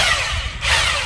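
A heavy-duty rotary hammer drill with an aluminum alloy housing runs steadily at close range, giving a dense continuous whir that dips briefly at mid-point before resuming.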